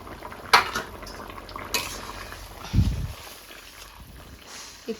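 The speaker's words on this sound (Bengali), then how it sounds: "এই যে এখন মাছটা দিয়ে দেবো" Fish goes into a pan of potato and data vegetable curry: metal utensils clink against the pan, then a soft dull thump and a brief bubbling stir follow.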